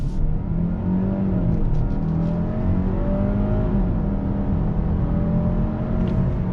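A 2021 Genesis G80 Advanced sedan with 300 horsepower accelerates under throttle, its engine drone steadily rising in pitch over road and wind noise, heard from inside the cabin without pause.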